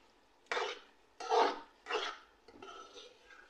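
Masala for Punjabi-style rajma being stirred and fried in a pot, four distinct scraping strokes of a spoon against the pan, spaced about half a second apart, close and fairly quiet.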